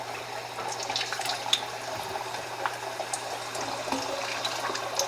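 Large pork chops dropped one at a time into hot frying oil in a skillet, giving a steady close sizzle and bubbling with scattered pops and crackles throughout.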